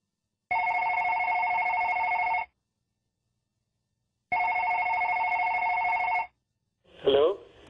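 A telephone rings twice for an outgoing call to a bank: two long, steady electronic tones with a silent gap between them, then a brief voice at the very end.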